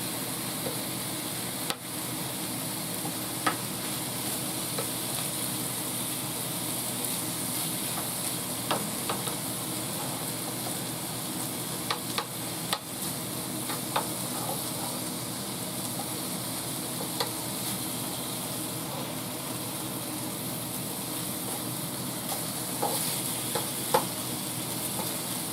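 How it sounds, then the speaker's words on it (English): Beef stew meat browning in a skillet, a steady close sizzle and frying hiss with occasional scrapes and clicks of stirring throughout. "Then move your meat around to make sure it all gets cooked."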